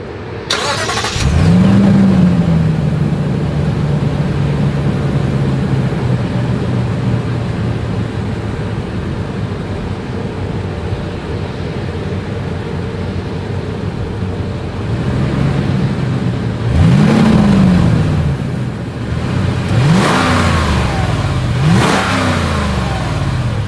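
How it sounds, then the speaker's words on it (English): A Lexus GX460 SUV engine starts with a burst, idles with a steady exhaust rumble, then revs sharply three times near the end, loud and close. "here is that exhaust clip"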